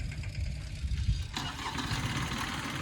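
A mini tractor engine starts in a farm field after being stuck: a low rumble shifts to a fuller, steady running roar partway through, fairly close and with no voices.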